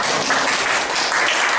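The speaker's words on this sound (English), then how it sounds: "Let's give them a big clap" An audience at a leadership workshop breaks into dense, continuous applause, loud and close, the clapping blending into an even roar.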